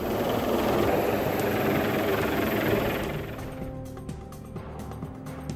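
Coast guard helicopter during a sea rescue, a loud steady rotor roar that fades after a few seconds into quieter mechanical rattling.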